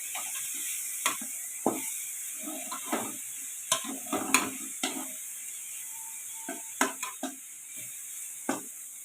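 Grated coconut is stir-fried for poriyal, a soft continuous sizzle under repeated close scraping and tapping strokes from the stirring utensil.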